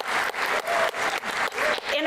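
Audience applause at a panel discussion during the GRACE Conference, a steady wash of clapping that swells and dips in several waves, with some voices mixed in.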